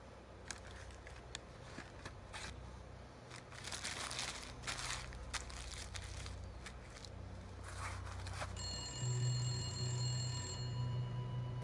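In the 1981-set video game The Gallery: Dorian Deceived, crinkling and shuffling noises come first, then an old telephone bell starts ringing with a bright, trilling tone that carries on to the end.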